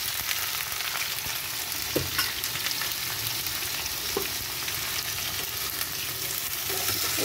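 Capsicum, onion, tomato and green chilli fry in a pan with a steady, dense sizzle and occasional stirring clicks from a utensil, close and fairly loud, with no talk.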